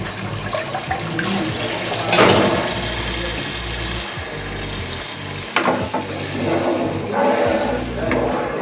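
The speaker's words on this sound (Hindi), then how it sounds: "3 गिलास पानी है ये इसमें डेगची में।" Three glasses of water are poured into a cooking pot (degchi) while making the gravy for nargisi aloo kofta, a steady close splashing flow with a few louder gushes and no talk.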